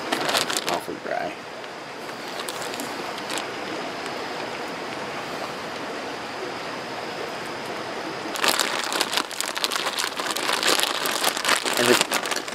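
Bannock dough of flour and barely enough water being mixed thoroughly inside a plastic bag, giving steady close crinkling and rustling plastic that swells louder near the end.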